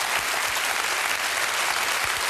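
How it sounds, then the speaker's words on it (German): A television studio audience at a late-night comedy show claps in a dense, steady wash of applause, uniform and loud from start to finish. "dieser pädagogisch wertvolle Montessori-Beifall"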